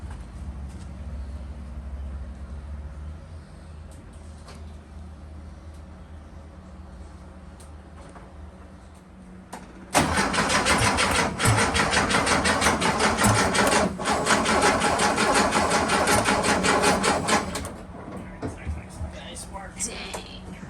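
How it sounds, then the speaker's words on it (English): A Porsche Speedster replica engine cranks on its starter, boosted by a battery charger, with a fast, steady mechanical chugging that runs loudly for several seconds, then cuts off after a quiet stretch. "Turn the battery charger up so that I get more speed with the starter"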